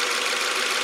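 The 2.5-liter boxer four-cylinder of a 2018 Subaru Forester 2.5i Premium runs with a steady, even whir, close and continuous throughout.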